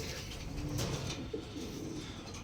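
Pigeons coo softly in a loft among Mondar-breed pairs, with low repeated calls over a constant background hum and no talking.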